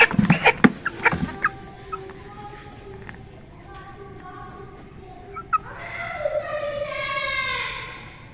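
Chickens being brought home for slaughter cluck and call nearby, with sharp flurries early on and a longer run of higher, tonal squawks toward the end.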